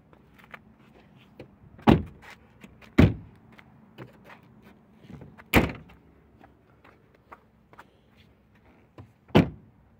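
A VW Golf's car doors are shut again and again, giving four loud, solid thunks spread across the stretch, with softer clicks and rattles between them and no voices.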